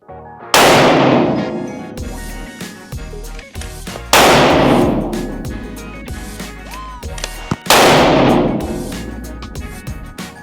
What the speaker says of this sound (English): The gun I'm shooting is the Bergara Premier Divide, and it is shooting the 140 grain Hornady match bullet